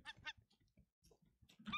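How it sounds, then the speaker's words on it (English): Seagull calls in the survival game Raft, several short harsh squawking bursts in quick succession, fairly near and clear over a quiet background. "I hear Seagull."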